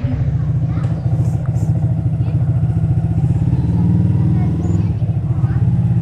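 A motorcycle ride with a steady, loud mid-pitched engine drone running throughout, rising slightly in the middle, with people talking over it.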